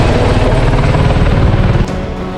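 Helicopter rotor thumping and engine roar near Kedarnath, loud and continuous, dropping in level abruptly near the end.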